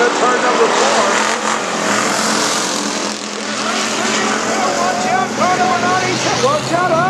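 Race cars roar around a dirt track at Boyd Raceway, a continuous loud, droning engine wash rising and falling as cars pass, under a race announcer's steady commentary.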